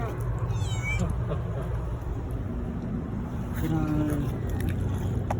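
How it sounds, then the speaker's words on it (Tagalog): Hungry stray cats meowing outdoors in hot weather in Saudi Arabia, several insistent cries rising and falling, close by over a steady rumble of traffic. "Gutom yung mga pusa."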